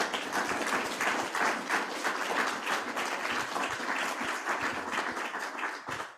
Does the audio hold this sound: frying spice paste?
no